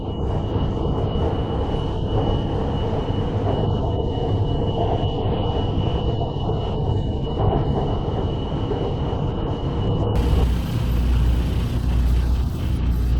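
A steady, loud rumble of a Hanoi metro train running, continuous rolling noise with a faint high whine, shifting slightly near the end.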